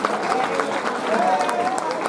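An audience claps at a school's annual cultural program, a short burst of applause mixed with a loud announcer's voice over a PA and crowd noise.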